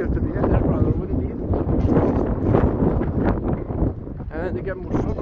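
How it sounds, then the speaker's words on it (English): Strong wind buffets the microphone on a coastal path by a harbour, a loud, continuous rumbling roar with gusty swells, while someone talks over it. "I do apologise for the wind here today"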